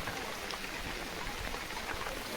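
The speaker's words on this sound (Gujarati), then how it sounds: "વરસાદ આવી રહ્યો છે" Rain patters on surfaces in a soft, steady rush with scattered drop impacts, fairly faint and continuous, with no talking.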